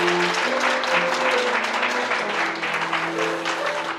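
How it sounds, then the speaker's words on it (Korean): Sustained applause fills a Korean wedding hall as the bride and groom bow to guests, a dense steady clapping from a large crowd that carries on throughout with music underneath. "아낌없는 축하의 박수 부탁드리겠습니다."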